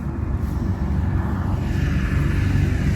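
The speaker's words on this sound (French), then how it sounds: "elle a eu peur du bruit du tracteur" A tractor engine runs with a steady, heavy low rumble near horses in a paddock being cleared with a mower, loud and continuous throughout with no voices.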